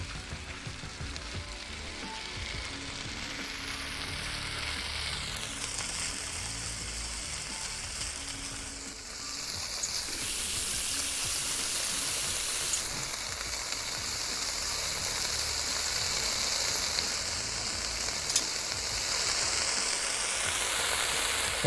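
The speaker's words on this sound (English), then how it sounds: "the sound of those potatoes is really loud" Potatoes fry in the Cooking Simulator VR game with a steady, dense sizzle that hisses continuously throughout, moderately loud and even, with no talking over it.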